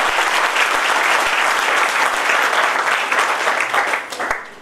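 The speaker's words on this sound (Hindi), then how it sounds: "एक बार मैं जोरदार तालियां करूंगा" Loud, dense audience applause at a motivational talk, steady throughout and tapering slightly at the end, with no speech over it.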